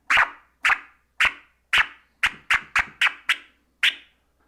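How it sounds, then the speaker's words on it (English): DJ stab scratches on a vinyl record, the crossfader cutting off each forward push: about ten short sharp chirps, evenly spaced and then quickening, close and alone. "With a stab, we're talking about moving the record forward"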